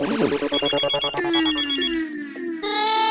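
A bright electronic phone ringtone plays a looping melodic pattern, close and loud, with a slight shift in tone partway through.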